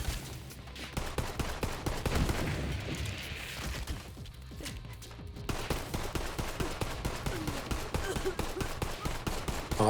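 Rapid radiation pistol fire from Borderlands 3, a dense stream of sharp shots and bursts running almost throughout, mixed with game explosions and impacts, loud and close.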